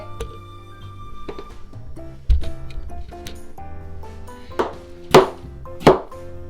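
A knife cuts through melon on a kitchen board while a melon shake is being made, giving a series of sharp chops and taps, with the last few cuts louder and more forceful.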